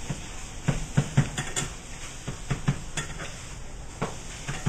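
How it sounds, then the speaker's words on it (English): Scrambled eggs with cinnamon are pushed around a frying pan, with soft sizzling under repeated tapping and scraping strokes of a utensil against the pan. "just mixing the scrambled eggs, you're just moving around in the pan"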